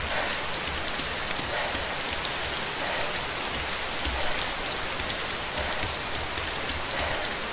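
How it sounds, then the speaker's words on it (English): Steady in-game rain in DayZ, a dense even patter of drops hissing across surfaces without a break, moderately loud and alone. "Love how glitchy the rain is."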